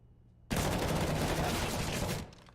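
Rapid automatic gunfire in Counter-Strike on the Mirage map during a pro match, likely MAC-10 submachine guns, erupting after a brief quiet and sustained as a dense, loud burst for about two seconds before cutting off.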